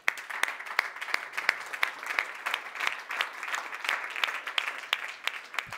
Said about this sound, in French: Donc on peut l'applaudir bien fort.